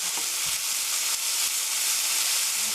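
Onions stir-fried in a pan for an egg-in-hell dish, with a steady bright sizzle and hiss throughout and a few soft scrapes of gentle stirring, close and continuous.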